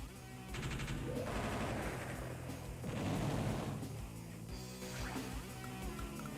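Artillery fire in the Advance Wars: Dual Strike game, a few loud booming bursts of gunfire rising and fading in sequence over a steady game soundtrack.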